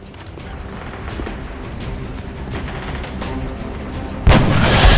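Sniper rifle shot in the video game XCOM Enemy Within: low, rumbling game ambience builds quietly for several seconds before a single loud, sharp boom lands near the end.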